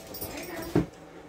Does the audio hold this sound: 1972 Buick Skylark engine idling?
no